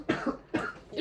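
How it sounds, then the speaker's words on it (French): Two short coughs about half a second apart, close and moderately loud, one person coughing while another joins in a deliberate, staged cough. "toi tu tousses, puis moi je fais comme si je toussais"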